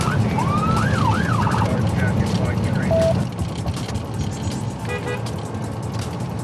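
A police car siren wailing loudly and close during a pursuit of a white Ford Transit van, a rising and falling yelp over heavy engine and road rumble, cutting out midway before brief electronic tones return.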